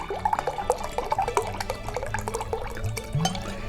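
Spring water pours into a container for homemade almond milk, a close, bubbly splashing and trickling with uneven liquid plops, with no talk.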